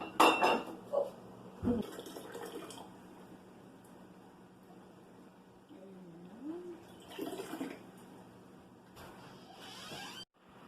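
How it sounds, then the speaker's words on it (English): Warm grape juice ladled into canning jars during water bath canning, with a few glassy clinks and metal knocks of the ladle against the jars, then a quiet pouring and trickling of liquid at low volume. "David's going to go ahead and start ladling this juice into our jars"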